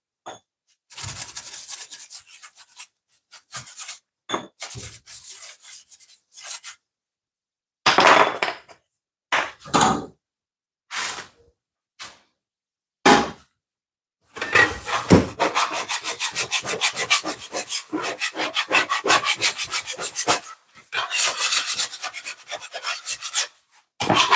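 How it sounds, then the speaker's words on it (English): Roti flour being scraped off a wooden board, rough rasping strokes in bursts with short pauses, then a long stretch of rapid continuous scraping, close and loud with no talk. "this helps scrape off the flour off the board"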